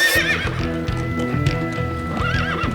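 A horse whinnies loudly near the start, and steady clip-clopping hooves keep a regular rhythm under it for the whole stretch, with no talk over the sound.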